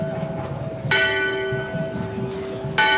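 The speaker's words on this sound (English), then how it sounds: "That bell was from the USS Charlottesville." A ship's bell from the USS Charlottesville rings out twice, loud and resonant with a long ringing tail, at an outdoor inauguration parade with a murmuring crowd in the background.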